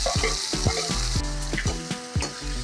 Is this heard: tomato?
yes